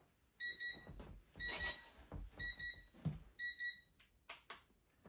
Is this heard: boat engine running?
no